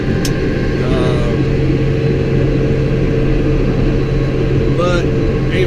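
A tractor engine runs steadily while pushing snow during a winter storm, a loud, continuous low drone with brief higher whines near the start and end, and no talk heard over it.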